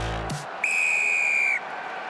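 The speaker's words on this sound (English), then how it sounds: "Whistle goes, and Jack Crowley to get us going in the sec" A referee's whistle blows one long, loud, steady blast to restart a rugby match between Ireland and the All Blacks at the Aviva Stadium in Dublin, over a constant roar of the crowd.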